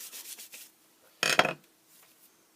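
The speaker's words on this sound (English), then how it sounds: "So I'll just need to clean my block off" A scrubber rubs ink off a rubber stamp block in a brief, close, rasping scrub, with softer rubbing strokes before and after.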